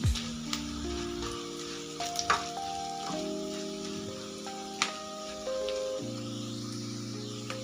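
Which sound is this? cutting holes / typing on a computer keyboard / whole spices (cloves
whole spices (cloves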